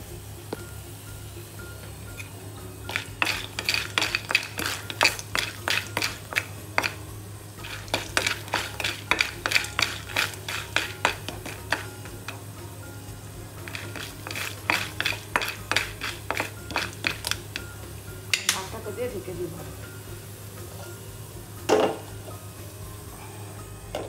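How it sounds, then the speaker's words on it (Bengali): A utensil stirs caramel popcorn in a pot, scraping in repeated rhythmic bursts separated by short pauses, close and fairly quiet, with a few louder knocks against the metal. "একটু নাড়া দিয়ে নাড়া দিতে হবে।"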